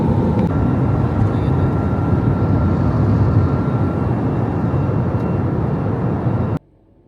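Steady loud cabin roar of a passenger airplane in flight from Delhi to Mumbai at cruising altitude, a continuous broadband rumble that cuts off abruptly near the end.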